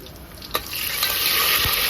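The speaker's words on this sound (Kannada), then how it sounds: "ಒಂದು ಈರುಳ್ಳಿ ಕಟ್ ಮಾಡಿ ಇಟ್ಕೊಂಡಿದ್ನಲ್ಲ ಅದನ್ನ ಸೇರಿಸ್ತಾ ಇದ್ದೀನಿ ಅದು ಸ್ವಲ್ಪ ಚೆನ್ನಾಗಿ ಫ್ರೈ ಆಗಲಿ" Chopped onion hits hot oil in a pan for sprouted bean sambar, a soft clatter followed by a steady, building sizzle of frying close by.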